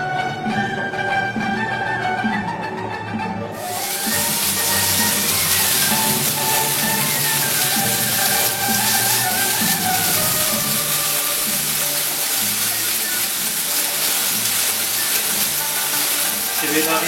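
Onions hit a hot pan ahead of the meat and burst into a loud, continuous sizzle and crackle that keeps going steadily after a quieter opening few seconds.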